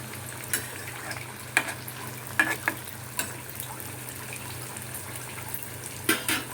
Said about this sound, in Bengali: ডুবো তেলে এরকমভাবে ভেজে নিতে হবে